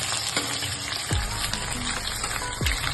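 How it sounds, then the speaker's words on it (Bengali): Garam masala fries in a pan with a steady, moderately loud sizzle, broken by occasional spoon scrapes and a couple of heavier knocks as it is stirred during chicken and potato curry cooking. "2-3 মিনিট আমি গরম মশলাটা এভাবে ভেজে দেবো।"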